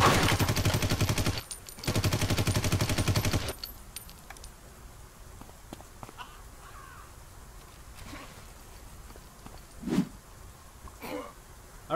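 Rapid automatic gunfire from the Omerta: The Japanese Incentive video game, two loud sustained bursts in the first few seconds, followed by quieter scattered shots and thuds.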